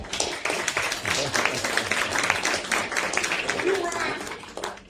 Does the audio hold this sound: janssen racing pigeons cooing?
no